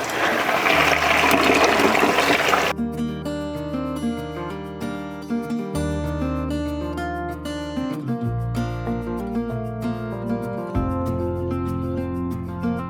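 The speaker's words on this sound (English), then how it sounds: "I'm gonna fill that up with water" A loud rush of running water filling a tub for a few seconds, then it cuts off and steady music carries on alone.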